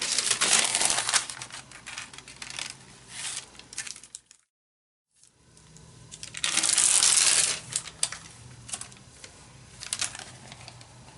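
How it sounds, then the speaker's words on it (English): Deli paper crinkles and rustles as it is handled during botanical printing, with dense close bursts that stop for a brief silence and then resume louder. "We'll start using some deli paper."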